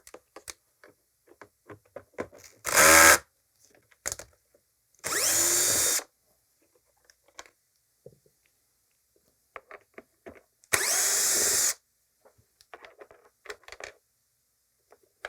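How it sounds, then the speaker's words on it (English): Three loud, separate bursts of a power screwdriver backing screws out of a Miele CX1 Blizzard vacuum that had lost suction, each burst about a second long, with quiet handling clicks and taps between them. "So we got to take out these two screws."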